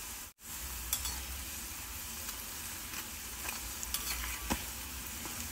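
Sabudana (sago) fasting snacks deep-frying in hot oil, a steady dense sizzle with occasional brief crackles and pops, close and continuous, no voices.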